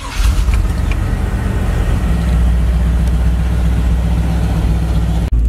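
A 1970 Chevy Cheyenne K10 4x4 truck with a fuel-injected 350 crate engine fires up and settles into a loud, steady idle, its deep rumble continuing close by until a sudden cutoff near the end.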